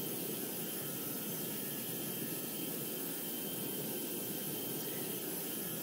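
Airplane engine at full throttle in the GeoFS flight simulator, a constant broadband roar that holds steady without letup the whole time.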